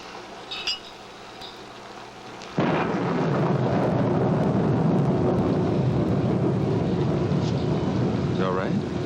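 A thunderstorm sets in abruptly after a quiet stretch, a loud, steady roar of rain and rolling thunder that fills the rest of the scene without pause.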